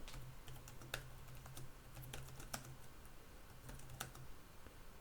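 Typing on the keyboard cover of a Samsung Galaxy Tab S6 tablet: steady, fairly quiet clicking of keys in a continuous run with occasional sharper taps, with no talking.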